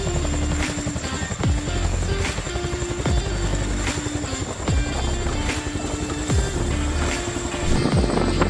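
A firefighting helicopter flies close by with a loud, steady rotor drone and repeating swooping pulses of blade noise through the whole stretch.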